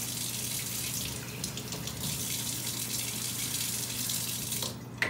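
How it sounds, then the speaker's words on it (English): Cool water poured from a container into a plastic bag, a steady close gushing trickle that runs for several seconds and ends with a short rustle. "I'm going to add some cool water"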